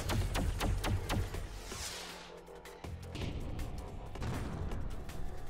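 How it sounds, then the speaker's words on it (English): Explosions and weapon blasts in the space fighter game ARC Savior, a run of sharp bangs early on giving way to a sustained rumbling boom and crackling debris, loud and dense throughout. "So the explosions I quite like."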